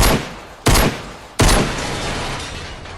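Loud video game gunfire comes in three abrupt blasts, each followed by a ringing, decaying tail, close and forceful.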